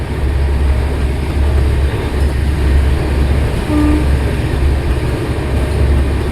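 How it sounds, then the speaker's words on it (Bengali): A train runs at about 105 km/h toward a junction, a loud, steady rolling rumble from close by, with a short tonal note partway through. "জাংশনের দিকে যাচ্ছে ট্রেনের স্পিড একশো পাঁচ কিলোমিটার পার আওয়ার"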